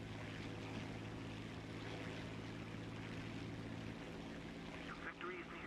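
Propeller engine of a Reggiane 2000 fighter in War Thunder, a steady droning hum that continues as the power is cut back, faint and mixed with wind-like noise.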